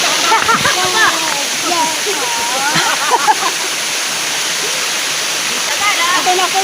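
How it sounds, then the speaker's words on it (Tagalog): Kagbuho Falls roars as a steady, broad rush of falling water and splashing, while several people chatter and shout excitedly over it nearby. "Talon po dito sa Pagkilaw po."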